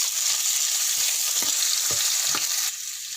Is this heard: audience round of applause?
no